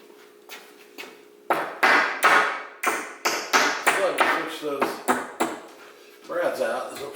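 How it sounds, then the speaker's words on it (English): Hammer blows on wood in a barndominium shop during wainscoting wall work, a quick series of sharp, close taps and knocks with brief pauses between them, while people talk nearby. "All right, hammer."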